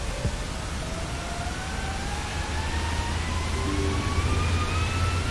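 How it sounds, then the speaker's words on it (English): Jet engines of a PMDG 737 in a flight simulator spooling up to full power for takeoff from Sydney, a constant loud broadband roar with a slowly rising turbine whine, no talking. "so you can hear the voice of the engine roar"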